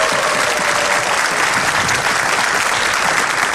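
A studio audience bursts into dense, steady applause that fills the room without a break for the whole stretch, loud and close.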